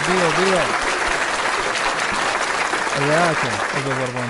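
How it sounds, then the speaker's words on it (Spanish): Audience applause at a live show, a dense broadband wash of clapping filling the whole stretch, with voices calling out over it at the start and again near the end. "Un fuerte aplauso, por favor"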